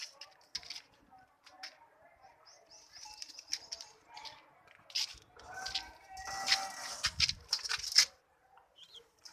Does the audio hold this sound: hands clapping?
no